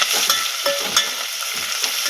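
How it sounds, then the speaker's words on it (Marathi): Onion, tomato and green chili fry in oil, a dense close sizzle with scraping, stirring strokes and light crackles over a short stretch, no talking. "आता हे आपण सगळं तेलामध्ये परतून घेऊया"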